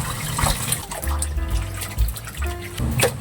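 Tap water runs and splashes steadily into a kitchen sink during cleaning, with gurgling and uneven trickles close by.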